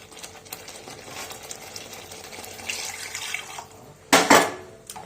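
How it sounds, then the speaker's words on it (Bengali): Water is poured into a pan of cooked spice paste for a coconut-paste pabda fish curry, with a faint background hiss followed by a short, loud splashing sizzle near the end. "এবার জল দিয়ে দেবো।"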